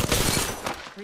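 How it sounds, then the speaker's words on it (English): Video game gunfire, a rapid burst of loud close shots packed into about a second before it cuts off. "Opening fire on the enemy."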